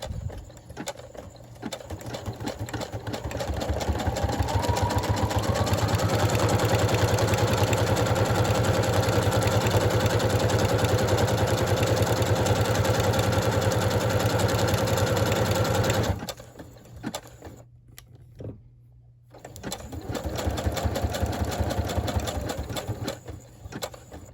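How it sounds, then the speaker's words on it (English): A foot-pedal sewing machine stitches through paper with lace trim, a loud, close, rapid mechanical whir that runs for a long stretch, stops briefly, then starts again. "now I'm gonna press down with the peddler foot, and that's gonna make it go"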